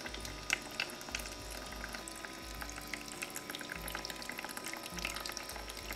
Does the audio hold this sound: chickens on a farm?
no